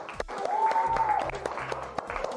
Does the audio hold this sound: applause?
yes